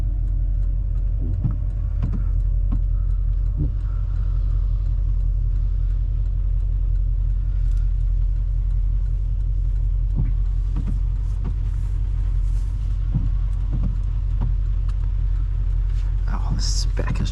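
A 2013 Porsche Panamera GTS full-size sedan on the move gives a steady, low cabin rumble of engine and road noise, with a person talking over it and occasional small clicks.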